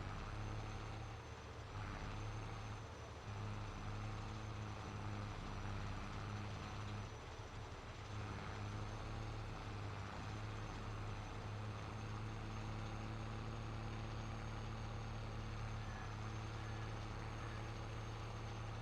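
Tractor pulling a mower in Farming Simulator 22, struggling to turn and capped at slow speed; a continuous low engine drone hums steadily at moderate volume, unchanging and with no voices.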